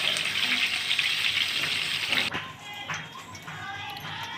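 Sliced onions dropped into hot oil fry in a pan with a dense, loud sizzle that drops to a softer, crackling hiss partway through.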